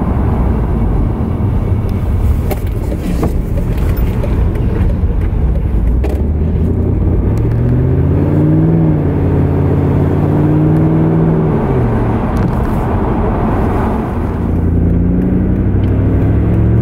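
A large Mercedes car engine revs loudly and steadily, its pitch climbing and falling through a few rising sweeps near the middle, heard close with no talking.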